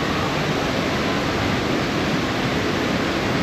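A resort entrance waterfall roars in a steady, dense rush of falling water, loud and unbroken throughout with no voices.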